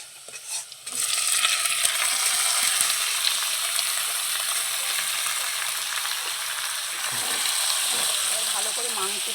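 Marinated broiler chicken pieces sizzle and fry in hot oil with onions during Bengali chicken kosha cooking, a steady loud hiss after a brief start, with occasional stirring noises.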